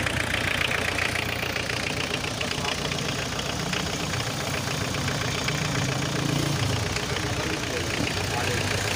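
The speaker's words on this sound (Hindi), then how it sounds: "ये अब देख लें, इंजन स्टार्ट किया हुआ," A 1993 Suzuki Potohar's engine idles steadily after starting, a continuous rough mid-to-low rumble with a faint knocking texture that holds throughout, alone without talk.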